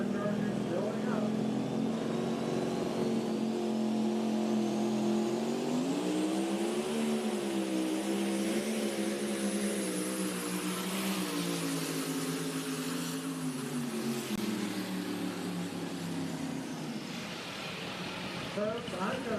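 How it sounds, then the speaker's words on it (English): A loud, rising and wavering engine roar with building turbocharger whine from a pulling truck charging down the track at a truck pull, holding strong for the whole pass while a voice talks over it. "Hear those turbochargers building up."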